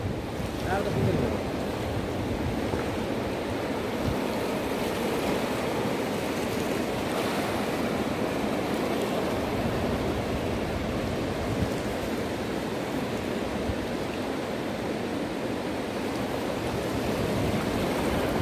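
The flooding Karnali river near Tikapur rushes as a constant dense broadband roar for the whole stretch, loud and unbroken, with a faint voice near the start.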